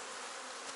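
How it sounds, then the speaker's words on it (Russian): Honey bees working inside an opened hive at the lower box, a dense steady buzzing hum close by with no voices. "А здесь, видите, пчелы работают."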